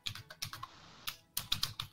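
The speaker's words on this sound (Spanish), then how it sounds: "Qué fuerte le pegás al teclado" Close, hard typing on a computer keyboard: clusters of loud, sharp key strikes in uneven bursts, with a brief lull in the middle, and no voices.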